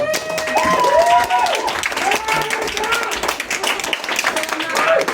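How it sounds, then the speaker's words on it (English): Applause at an open mic night in a bookshop, mixed with loud voices and a clear speaking voice over the clapping, which runs steadily through the whole stretch. "round of applause for Rachel"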